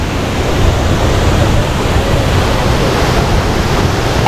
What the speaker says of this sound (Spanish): Se los presento a Cascada Paraíso.